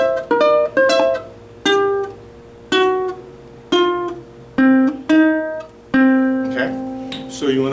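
A short chord sequence on guitar mixing open and fretted strings, strummed in a repeating two-then-one-then-one pattern with sustained ringing tones, close and clear, played alone without talk.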